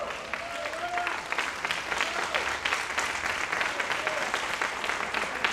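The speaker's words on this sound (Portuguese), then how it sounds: "Forte aplauso ao nosso Deus." Congregation applause during an Easter church service, a dense, steady wash of clapping from many hands filling the room at moderate loudness, with faint voices or cheers mixed in.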